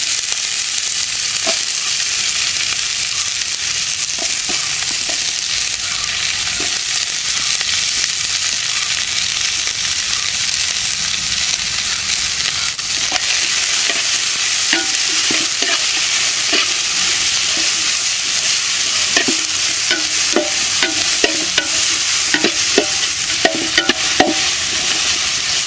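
Onion, ginger and garlic sizzle in hot oil for a Kuttanadan-style chicken curry, with a continuous loud frying hiss and occasional stirring scrapes and clinks from the pan.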